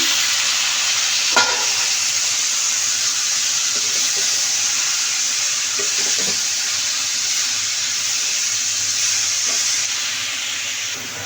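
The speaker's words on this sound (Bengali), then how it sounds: "তো এই যে আমি শাকটা ভালোভাবে ভেজে নিব" Bottle gourd greens frying in a pan, giving a loud, continuous hiss and sizzle. Occasional soft stirring knocks break the sound, and no voices are heard.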